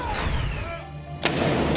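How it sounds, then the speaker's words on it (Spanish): A single cannon shot from a 96-gun ceremonial salute honoring Queen Elizabeth II booms sharply over a steady outdoor crowd murmur, heard from a moderate distance. "Uno de los homenajes a la reina Isabel II fueron los 96 cañonazos"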